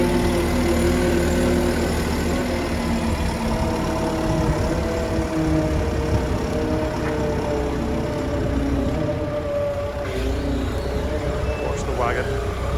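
Wheel loader engine running steadily while scooping about 2.5 tons per bucket into a farm wagon, a constant close diesel drone with people talking over it.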